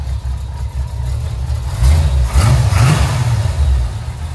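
A 1989 GMC Sierra pickup engine with around 150,000 miles idles with a low rumble, then revs up loudly for a couple of seconds and settles back to a steady run, close by with no talk.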